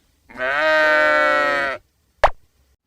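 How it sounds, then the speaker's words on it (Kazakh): A single drawn-out bleat from a sheep, loud and close, followed by a short sharp click or knock after a moment of quiet. "Бұл қой және оның баласы қозы."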